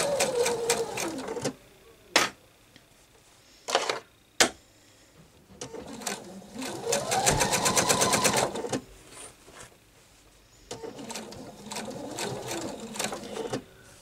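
A sewing machine stitches in several runs of fast mechanical whirring and rattling, rising and falling in speed, with a few sharp clicks and short quiet gaps between runs.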